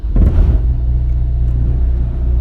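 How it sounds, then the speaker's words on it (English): A 12 kW Powertech diesel generator catches and settles into a loud, steady low rumble, its cooling fan kicking in with a faint whoosh as the engine holds an even idle. "there it goes. You hear the fan kick in, which is good, which means you know you're putting out power."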